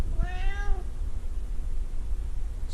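A hungry cat gives one clear meow in a hot rod workshop, a rising-then-falling cry lasting under a second, followed by quiet room noise.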